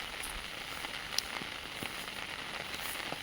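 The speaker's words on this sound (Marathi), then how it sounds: "पाऊस पडू राहिला आहे" Steady rain falling outdoors in a village during fishing, a soft, even hiss with faint scattered drop ticks, fairly quiet and distant throughout with no voices.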